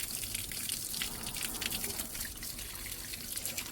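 Water gushes and splashes steadily while a vehicle is washed outdoors, a faint continuous spray with light dripping and trickling.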